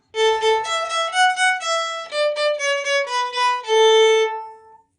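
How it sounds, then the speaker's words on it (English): The Twinkle Twinkle melody played as clean sustained single notes on a tonal instrument, one note after another in a steady, even rhythm, loud and close with nothing else heard. "So the first piece I ever learned was Twinkle"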